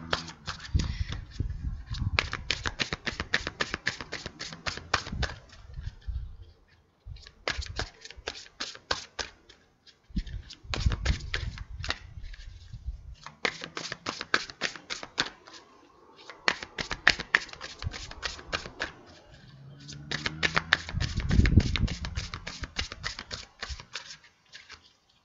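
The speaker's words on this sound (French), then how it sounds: "Je vais prendre une carte de Marie pour conclure" Tarot cards being shuffled in repeated bursts of rapid, crisp riffling and flicking, each run lasting a few seconds with short pauses between, close and clear with no talking.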